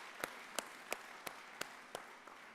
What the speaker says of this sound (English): Can we clap for the Republic of South Africa